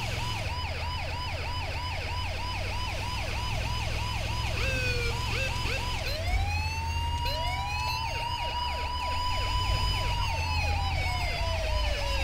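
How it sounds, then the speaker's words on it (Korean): A Korean ambulance siren in GTA V wails continuously in a rapid repeating yelp, then shifts to slower rising and falling tones, steady and loud over the hum of a Mercedes-Benz Sprinter engine. "한국 사이렌도 은근 크네."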